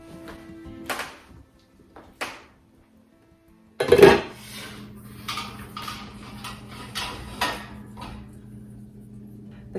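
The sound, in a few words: lid taken off water bath canning pot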